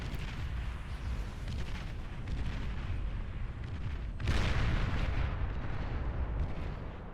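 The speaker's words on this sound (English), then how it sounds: "There are a lot of big explosions in this game." Big explosions and artillery fire from the strategy video game Beyond All Reason rumble continuously as a dense low barrage, with a heavier blast surging louder around the middle and then holding steady.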